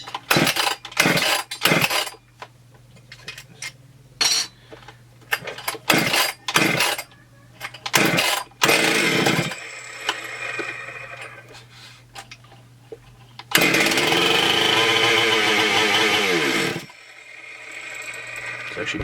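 A Husqvarna 262xp chainsaw, rebuilt and running without bar and chain, fires up after a series of clicks and pulls of the starter cord, with brief bursts before it catches and runs loudly for a few seconds near the end.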